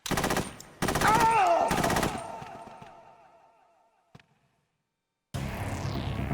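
Gunfire in Metal Gear Solid 2: two or three loud bursts of rapid automatic fire, each followed by ringing metallic echoes that fade into near silence, one sharp click, then a renewed burst of noisy fire at the end.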